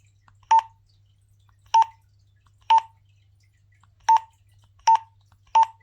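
Six short electronic beeps from the buttons of a Ridge Rider UHF CB radio being pressed to select a channel, each a crisp close tone spaced irregularly about a second apart, with a faint low hum underneath.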